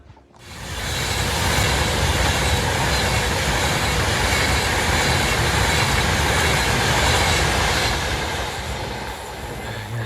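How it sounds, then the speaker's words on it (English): A train roaring past a railway cottage right next to the line, loud and close, with a sudden onset and a sustained rush of wheels and rail noise that eases slightly toward the end, with no talk. "see if I can get a few more trains before I disappear"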